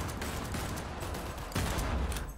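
Rapid gunfire in a shooting contest in Cyberpunk 2077, a dense fusillade of quick shots fired in fast succession, fairly faint and continuous with no talking.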